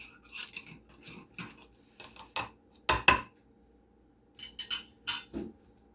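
A spoon clinks against a bowl in a series of light, irregular taps and scrapes while mixing a yeast mixture for homemade pizza dough, close and fairly quiet with no talking.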